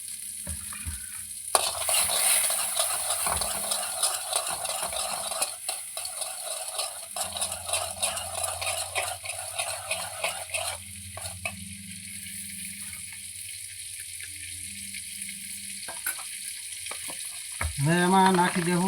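Corn kernels frying in butter in a pan, a steady close sizzle broken by repeated scraping stir strokes. A brief clatter comes near the end.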